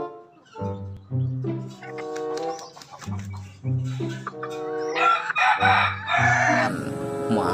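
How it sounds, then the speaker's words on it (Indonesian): A rooster crows repeatedly in drawn-out calls, with clucking hens close by and a busy farmyard feel. "Ayam jantan."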